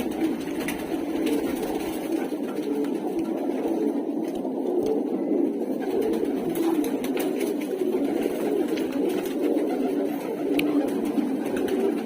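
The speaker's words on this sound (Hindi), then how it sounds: "ये काला मद्रासी कबूतर है" Black Madrasi pigeons coo continuously inside a crowded netted loft, with soft, overlapping, throaty calls and faint rustling close by and no speech.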